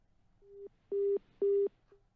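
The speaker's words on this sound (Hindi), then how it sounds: "पुरुषोत्तम तिवारी जी का फोन कट चुका ह" Telephone busy tone after a call drops during a Hindi news phone-in: three short, evenly spaced electronic beeps, the first softer, with a faint clipped start of a fourth at the end.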